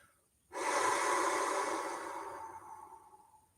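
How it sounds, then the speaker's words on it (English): A long, steady exhale during a guided meditation, starting abruptly and fading slowly over about three seconds, close and breathy in a quiet room. "And as we breathe out, we're letting go."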